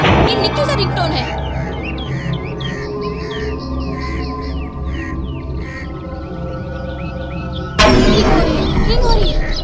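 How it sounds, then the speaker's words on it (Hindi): A chirpy electronic ringtone melody repeats in quick, bird-like trills over background noise, then a sudden loud burst of sound cuts in. "भाई भाई देखो, फोन की घंटी बज रही है।"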